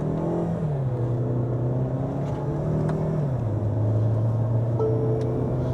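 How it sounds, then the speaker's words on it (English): A Tata SUV engine revs up under acceleration, held around 2000 RPM, its steady drone rising and dropping in pitch as gears change, heard from inside. "The engine is louder here. Keeping it at 2000 RPM, foot down, instant."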